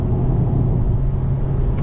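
A 2010 Mazda 3 2.0 Sport automatic hatchback pulls steadily from inside the cabin, a low, smooth engine rumble with a faint road drone and no distinct gear shift across the short stretch.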